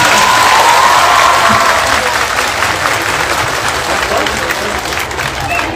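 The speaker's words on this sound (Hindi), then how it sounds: "बातों की बजाय अगर जोरदार तालियां हो जाए।" Schoolgirls at a school event give loud, sustained applause that fills the hall, dense and close, slowly easing off toward the end.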